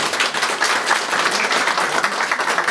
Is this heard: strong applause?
yes